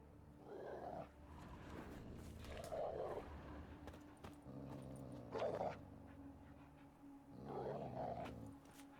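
Dogs in the fantasy game The Witcher 3 give four spaced growling barks over a low ambient hum, moderately distant and fairly faint.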